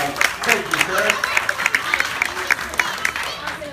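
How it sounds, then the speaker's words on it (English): Audience applause rings out from a crowd at a children's presentation, steady clapping with sharp individual claps standing out, and a voice talks over it. "Big round of applause"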